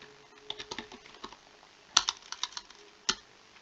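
Quiet bursts of typing on a computer keyboard, irregular soft key clicks with a few sharper, louder strikes, close and alone.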